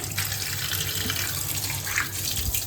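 Tap water runs steadily into a sink while about 1.5 kg of meat is washed, a close, continuous splashing rush with no talk.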